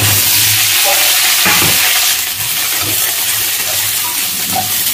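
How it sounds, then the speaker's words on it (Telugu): Okra pieces fry in a spoonful of oil in a pan, a loud close steady sizzle and hiss with occasional stirring scrapes throughout, no talk. "అందులో మనం బెండకాయలు ముక్కలు వేసుకొని కొంచెం దారుగా వేపుకోవాలి."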